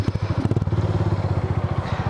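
A motorcycle engine idles and revs close by, its steady pulsing throb loud and alone with faint clatter over it.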